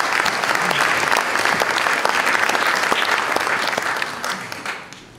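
Sustained audience applause at a French book prize ceremony, dense steady clapping that holds for several seconds before tapering off toward the end.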